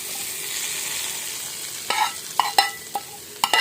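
Hot tempering of mustard seeds, cumin and curry leaves meets tamarind leaf chutney, a continuous close sizzle broken by several sharp clacks and scrapes of stirring toward the end.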